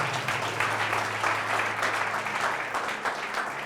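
A church congregation at a ministry service claps for the Lord, a dense, continuous wash of many hands over a low hum, steady throughout the short stretch.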